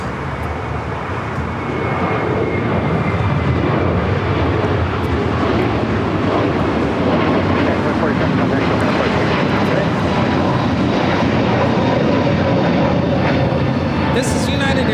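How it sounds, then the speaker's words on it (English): A United Airlines Airbus A321neo roars steadily on its takeoff roll at LAX, bound for Chicago, a loud, broad engine rumble that builds in the first seconds and then holds strong, with talk faintly underneath. "This is United Airlines 2487 taking off to Chicago on the A321neo."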